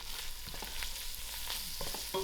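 Onions, green chilies and masala spices frying in a pot for a three-dhal curry, a close, continuous crackling sizzle with stirring clatter and scraping throughout, no talking.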